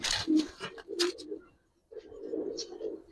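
Giribaz and colored pigeons coo at a seller's stall, a low throaty warble repeating in short bursts near the listener, with faint chatter and a brief quiet gap partway through.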